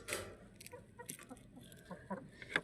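A rooster clucks in short, soft bursts at an irregular pace, faint and somewhat distant amid quiet farmyard background noise.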